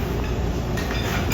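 A camper slide-out motor extending the room, a close, loud, steady mechanical whir and rumble lasting just over a second.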